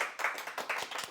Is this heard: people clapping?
yes